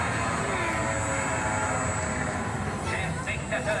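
Propeller airplane sound effects play steadily and loudly on the Gersar Skyfly ride, a full-size airplane with a turning propeller at the Nigloland theme park, with a constant engine-like drone and crowd chatter underneath.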